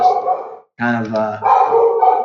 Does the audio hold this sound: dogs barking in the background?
yes